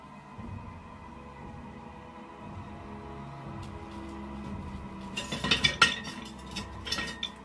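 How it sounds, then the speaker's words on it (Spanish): A cooking pot shifts and clatters on a kitchen counter, a few sharp metallic clinks and rattles near the end after a quiet, humming stretch. "una de las ollas sobre el mostrador se mueve sola"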